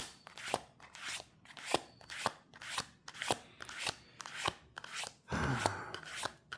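Tarot cards are shuffled up close in quick repeated bursts, about two riffles a second, crisp and quiet, with no talking.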